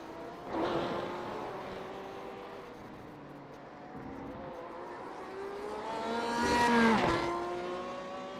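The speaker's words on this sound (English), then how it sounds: "Bergens there just making sure he understands where the rev limiter is on the Porsche" A Porsche race car engine in iRacing revs repeatedly against its rev limiter on the Okayama circuit, a loud buzzing tone that climbs and falls in waves and swells near the end.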